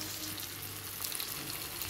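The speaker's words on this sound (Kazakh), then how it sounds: "Мінекей қуыруды бастадық." Meat with red and green sweet peppers frying in a pan for lagman gives a steady, close sizzle and crackle that holds at an even level throughout, with no talking.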